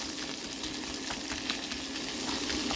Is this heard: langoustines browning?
yes